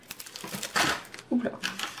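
A pack of Floral Romance specialty designer paper being opened by hand, a few short crinkling and rustling bursts of plastic and paper, close and fairly quiet, with someone speaking softly around them.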